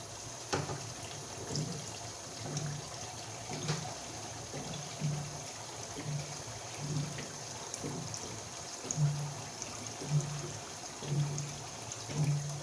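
Water is poured into a cooking pot of potatoes for a simple pork stew, a soft, steady trickle with faint repeated splashing, fairly quiet and alone.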